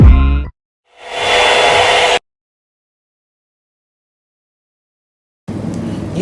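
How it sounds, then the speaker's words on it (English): A handheld blow dryer blasts hot air onto a broken iPhone during a DIY repair, coming in short loud whooshing bursts separated by abrupt silences, with no voices. "what the hell am I doing with a blow dryer on my phone?"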